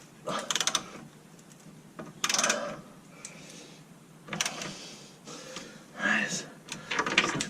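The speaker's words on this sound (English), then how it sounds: "I'll just tighten that back up just to clean the thread." A bolt on the lower wishbone of a 2001 Golf Mk4 1.8T GTI is tightened to clean its thread. Short bursts of close mechanical ratcheting and clicking come in several spaced spells, with a voice faintly present at times.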